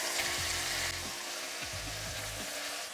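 Chuck roast beef browns in a hot pan with a soft, continuous sizzle, broken by a few faint scrapes or shifts of the meat.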